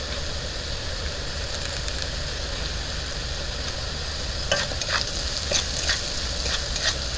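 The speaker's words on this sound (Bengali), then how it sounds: "জিরে গুঁড়ো আর ধনে গুঁড়ো দিয়ে মিক্স করে নেওয়া হচ্ছে।" Ground cumin and coriander powder are stirred in a hot frying pan, giving a steady, moderate sizzle; a few scraping strokes of the spoon come through toward the end.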